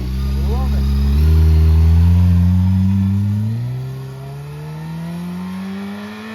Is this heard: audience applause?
no